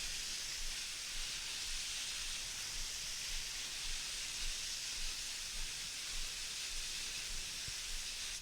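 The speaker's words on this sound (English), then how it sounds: "Just really making sure to give it a nice deep watering." Steady water spray from a hose soaks the soil around a newly planted viburnum, a continuous soft hiss with no breaks, close and even throughout.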